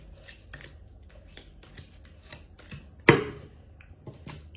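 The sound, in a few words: cutting a deck of cards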